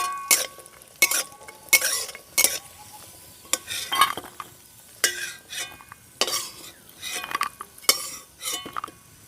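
Raisins are lightly fried in ghee in a pan. A spoon gives repeated sharp scraping and clinking stirs over a faint sizzle, close and irregular, with no talking.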